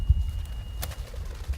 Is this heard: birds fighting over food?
yes